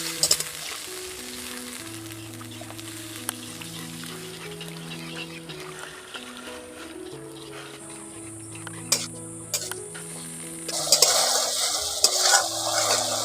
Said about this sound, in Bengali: জলটা দিয়ে ভালো করে মশলার সঙ্গে মিশিয়ে